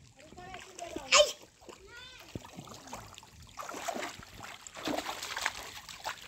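A child swims and splashes in open water, with irregular splashes and trickles close by while children and adults talk over them.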